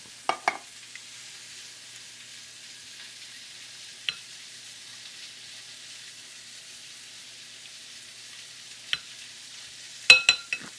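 Burger mixture sizzles in a hot frying pan with a steady broadband hiss, broken by a few sharp scrapes and clinks of a utensil stirring, the last cluster near the end the loudest.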